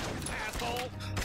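Bursts of gunfire from the Bad Boys: Miami Takedown video game, a loud rapid volley mixed under game dialogue.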